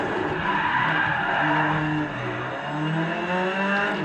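Car tires skidding and squealing in a racing video game driven with a Logitech G29 wheel, a continuous loud screech with engine drone, no talking.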